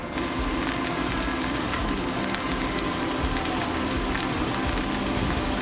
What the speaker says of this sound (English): Got some nice sizzling going here